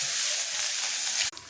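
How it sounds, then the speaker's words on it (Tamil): A loud, steady sizzle of chopped onions frying in hot oil hisses continuously, then cuts off abruptly near the end. "வெங்காயம் நறுக்கி வச்சுருக்கேன், அதை சேர்த்து. வெங்காயம் வதங்கட்டும்."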